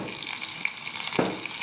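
Chili peppers hit hot oil already holding curry leaves in a pan for a cauliflower dish, giving a faint steady sizzle with a few brief clinks of a spoon, close and with no talking.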